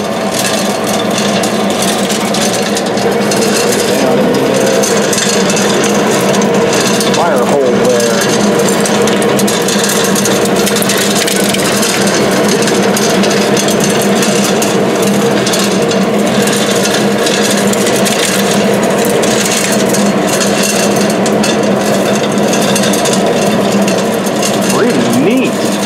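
Auger feeding anthracite coal into an Axeman Anderson AA130 boiler makes a steady, loud mechanical grinding and rumbling that continues without pause throughout.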